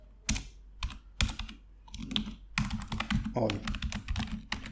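Rapid, uneven clicks of a computer keyboard as code is typed, close and crisp, with bursts and pauses and someone speaking briefly over the keystrokes.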